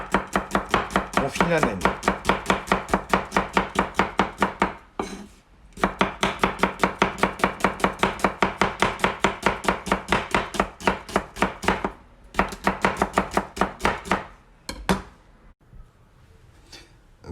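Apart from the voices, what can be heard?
chopping onions for a tajine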